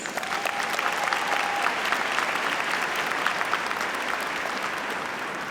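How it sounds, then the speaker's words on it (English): A commencement crowd at Spelman College applauds the Board of Trustees, a broad, even roar of clapping from a large audience that holds steady throughout, with faint cheers mixed in. "Join me in a round of applause for the Spelman College Board of Trustees."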